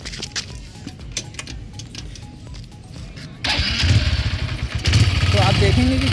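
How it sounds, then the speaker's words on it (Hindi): A Honda Livo motorcycle engine, about three years old with roughly 25,000 km on it, starts and settles into a steady, fairly smooth idle, preceded by quieter background noise and clicks. "लेकिन अगर इस गाड़ी का मैं आपको आवाज़ सुनाऊँ एक बार,"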